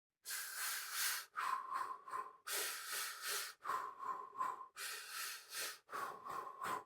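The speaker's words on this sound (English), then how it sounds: "For 3 in, 3 out, cadenced breathing would sound like this." Rhythmic breathing while running, in a 3-in, 3-out cadence, with hissing breaths in short groups and brief gaps between them, close and fairly loud.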